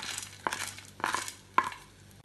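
A utensil scrapes around a pan of rava kesari with cashews and raisins in three distinct stirring strokes, close by, with quiet pauses between them.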